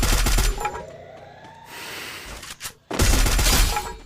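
Video game gunfire from SCAR and MP40 weapons in a solo-versus-squad battle match: loud rapid bursts of automatic fire at the start and end, separated by a quieter stretch with a rising whine.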